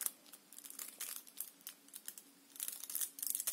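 Quiet crinkling and rustling of a paper packet being torn open, with short bursts of crackle and a louder ripping stretch near the end.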